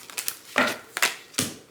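A deck of tarot cards is shuffled close up in three or four quick, crisp riffling bursts, a papery flutter with short gaps between them and no talking.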